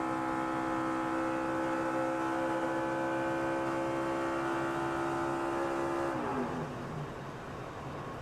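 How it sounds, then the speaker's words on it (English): A Matt Kenseth NASCAR Nationwide Series car at Texas holds a loud, steady high-RPM engine drone during final practice, then the engine is cut and the tone drops away near the end. "Just reached up at speed, at RPM, and just shut the engine off"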